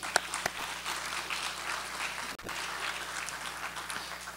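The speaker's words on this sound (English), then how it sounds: "Let's welcome them with a round of applause also." Audience at a university talk by an FBI special agent applauding to welcome guests, a steady, moderately distant wash of clapping with a few sharper claps and a brief dip midway.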